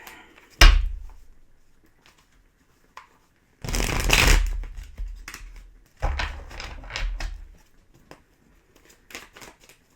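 Tarot deck being shuffled and handled, a sharp card slap followed by two bursts of rapid riffling and flicking, close up, with quiet gaps and soft taps between them.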